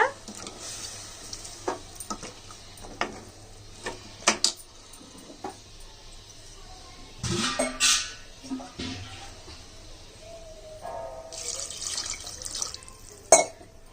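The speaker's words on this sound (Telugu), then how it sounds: "నీళ్లు పోస్తున్నాను. సరిపడా నీళ్లు పోసేసుకునండి." Water pours into a pot of mutton brain curry, heard as a few splashy gushes between scattered clinks and scrapes of utensils, with a faint sizzle underneath.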